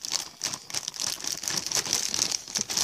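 A large bag is handled close by, giving off continuous irregular crinkling and rustling with no talking.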